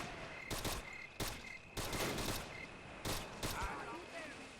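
A Marine's rifle firing in a WWII Guadalcanal airfield battle in Men of War: Assault Squad. It sounds as a handful of separate loud bursts and cracks at irregular intervals over a steady, noisy battlefield background, with a voice faintly present.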